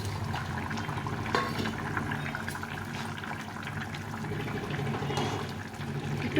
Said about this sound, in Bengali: ঝোলটা ফুটে গেছে এখন মাছগুলো ভেজে রেখেছিলাম মাছগুলো দিয়ে দেবো